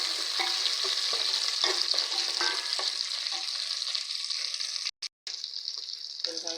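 Onions fry with salt in a pan until browning, giving a steady, close sizzle with light stirring scrapes, briefly cut out once before resuming.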